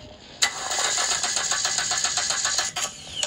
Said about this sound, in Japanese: やべ、エンジンがかかんね